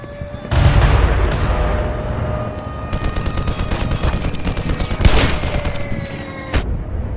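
A rocket blast goes off in Black Mesa with a deep booming explosion, followed by rapid crackling gunfire and a second loud burst near the end, all up close and loud.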